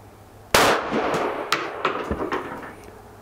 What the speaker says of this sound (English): I'm gonna try to see if I can get some shots in the center of that target up there